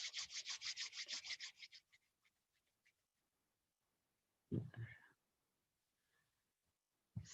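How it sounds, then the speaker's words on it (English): Palms rub together in quick rhythmic strokes, a brisk papery swishing that slows and fades over a couple of seconds, followed by quiet and a few faint isolated rustles. "Rub your palms."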